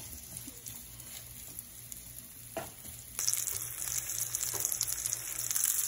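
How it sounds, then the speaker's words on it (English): Food browns in a pan for seafood gumbo, a soft frying sizzle that jumps noticeably louder and brighter about halfway through and stays steady, with no voices. "we just want to cook this so it's brown on each side"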